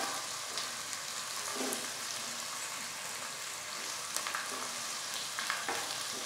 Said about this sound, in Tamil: ஃப்ளேம் சிம்ல வச்சு நல்லா வதக்கிங்க ஆனியன் நல்லா வதங்கிருச்சுங்க